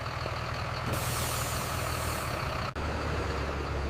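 A school bus arrives for the first day of school, its engine idling loud and steady, with a long hiss of air brakes releasing partway through and a brief dropout near the end.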